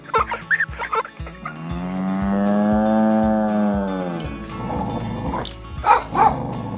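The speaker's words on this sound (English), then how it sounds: "Did you recognize the cows mooing? The dog barking?" A cow gives a long, loud drawn-out moo in the middle, with a dog barking in short bursts before and after it, all over a steady rhythmic musical background.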